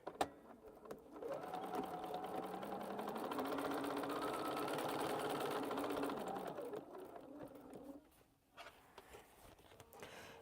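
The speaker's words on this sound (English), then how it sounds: "I'm quilting on the long arm." A long arm quilting machine stitches a quilt in one steady whirring run of several seconds, fairly faint, then winds down and stops with small clicks and handling noises.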